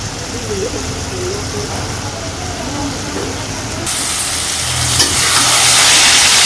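Vegetarian vegetable curry of pointed gourd sautés in a pan, a loud continuous sizzle and hiss close by, growing brighter and harsher partway through as the mixture is stirred.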